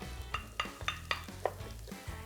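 Shallots frying in butter in a pan, a soft steady sizzle punctuated by several sharp scrapes and clinks of a utensil stirring, close and clear with no talking.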